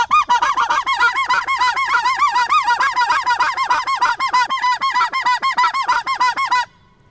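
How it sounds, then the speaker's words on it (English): Illusion snow/blue goose call blown fast, with grunts driven from the throat, giving a rapid, continuous run of loud, squeaky honking notes for about six seconds before it stops abruptly. "I'm also going to grunt into the call faster"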